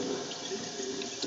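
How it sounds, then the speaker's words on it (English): Water gushes erratically from a poorly behaved sink faucet, a steady close splashing stream with a few brief spatters and no talk. "This faucet, it's really no good. It comes out all wild like that."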